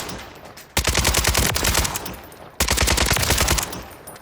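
Automatic gunfire in a video game comes in two loud, close bursts of rapid shots, each lasting about a second and a half and separated by a short pause.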